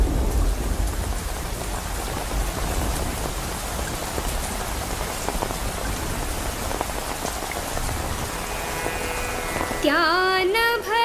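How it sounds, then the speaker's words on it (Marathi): Heavy rain pours steadily on surfaces with low rumbling thunder beneath, loud and constant, before melodic tones rise over the downpour near the end. "मला पाऊस येणार वाटते"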